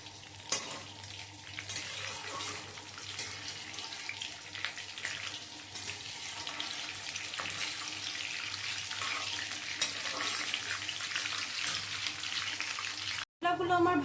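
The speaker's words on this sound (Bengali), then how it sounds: "মশলাগুলো আমার ভাজা হয়ে গেছে" Whole spices fry and get stirred in a pan while making shahi paneer, a faint, steady sizzle running for over ten seconds with soft scraping and a brief cut near the end.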